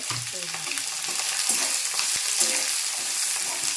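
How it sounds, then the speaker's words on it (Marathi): Peanuts, curry leaves and onion fry in a hot pan, giving a steady close sizzle with scattered stirring scrapes and light clinks throughout. "थोडेसे आता शेंगदाणे परतून घ्यायचे कढीपत्ता टाकला कांदा टाकून घे"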